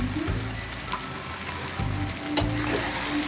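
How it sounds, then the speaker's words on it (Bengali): Chicken pieces fry in a pan as a blended spice paste is stirred through them, giving a continuous crackling sizzle broken by repeated low scraping pushes of the spoon. "আমি ভালোভাবে নেড়ে চেড়ে মাখিয়ে নিচ্ছি মশলাটা"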